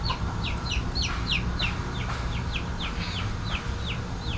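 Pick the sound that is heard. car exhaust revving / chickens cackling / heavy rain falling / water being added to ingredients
chickens cackling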